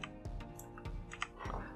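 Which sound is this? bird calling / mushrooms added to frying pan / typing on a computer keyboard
typing on a computer keyboard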